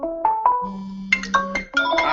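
A mobile phone ringtone plays a bright, bell-like electronic melody of quick rising and falling notes, loud and close, ringing alone without talk.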